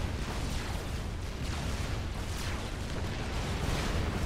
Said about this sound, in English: And he's being hit by attack missiles.